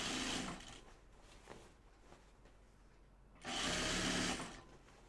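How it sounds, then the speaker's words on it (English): A domestic sewing machine stitching the front of pajama shorts runs in two steady whirring bursts separated by a quieter pause, heard close and without talk. "I'm sewing on the front."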